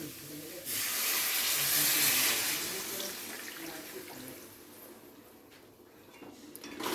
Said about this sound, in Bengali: এবারে দিয়ে দেবো এখানে জল।